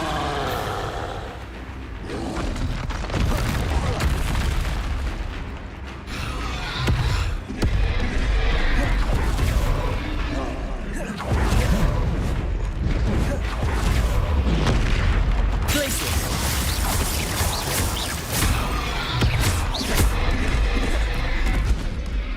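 Repeated fiery blasts from the Incendio fire spell in the Hogwarts Legacy video game, loud booming bursts rolling one after another over a dense, continuous wash of game noise.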